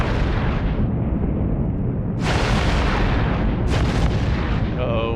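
Battleship weapons in EVE Online fire in loud booming bursts over a constant dense rumble, with sharp blasts near 2.2 and 3.7 seconds and a fainter ringing tail at the end.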